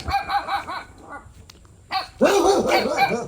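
A dog barks several times nearby in quick bursts, with a pause before a louder run of barks.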